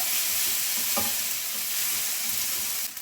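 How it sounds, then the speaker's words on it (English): Chicken and peppers stirred in a hot pan with black pepper and mixed herbs, a steady close sizzle with a soft scrape of the spatula near the middle, fading slightly at the end. "A little bit of black pepper and mixed herbs and continue stirring"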